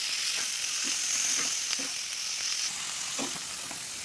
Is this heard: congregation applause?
no